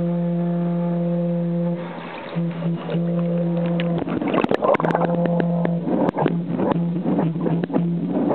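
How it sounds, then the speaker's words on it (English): An underwater pipe organ in a swimming pool sounds a sustained, steady honking chord that pauses briefly and returns, followed by heavy splashing and sloshing water over the held tones. "You want to honk it? Yeah, honk it."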